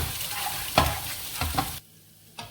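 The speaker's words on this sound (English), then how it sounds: "Egg is scrambled really well." Eggs being scrambled in a hot oiled pan for fried rice, with a soft steady sizzle and a few quick scraping stirs of the spatula before the pan noise drops away, with a last brief scrape at the end.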